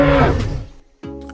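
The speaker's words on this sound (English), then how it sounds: "And here is the growl." Jurassic World Triceratops skin in the Dinosaur Simulator video game producing a deep, rough growl that trails off into quiet, followed by a brief tonal sound starting again.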